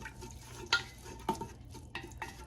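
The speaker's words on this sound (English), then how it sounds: "we're going to let that saute a little bit. Let's get it all broken up" Garlic sautéing in a pan, a soft low sizzle under a few distinct scraping stirs of a utensil against the pan, quiet and close.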